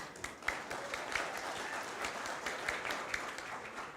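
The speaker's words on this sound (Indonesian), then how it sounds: "Tepuk tangannya peserta hadirin belum terlalu semangat." At a graduation ceremony, the seated audience gives fairly quiet, moderately dense applause, with a few louder claps popping out here and there. The level stays subdued and even throughout.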